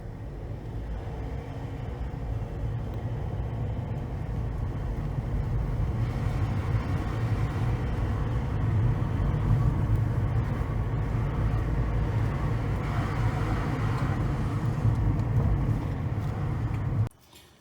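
Car out on a road test after its wheels are refitted, chasing a persistent sensor fault: a steady low engine and road rumble holds loud and close throughout, then cuts off abruptly near the end.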